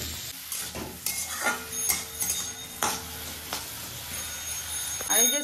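Oil fries in a pan in a home kitchen, sizzling with sharp splattering pops and crackles, punctuated by metallic clinks of stirring close by.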